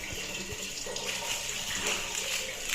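Kitchen tap running in a steady stream while coriander is washed under it, the water close and continuous with light splashing and handling.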